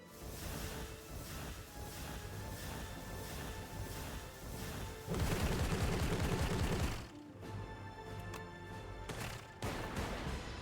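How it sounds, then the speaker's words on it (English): Flak cannon barrage in the card game Slay the Spire 2, a dense rapid burst of booming shots and crashes that swells loudest midway, then breaks into scattered hits, with no talk. "Fire the flak cannon."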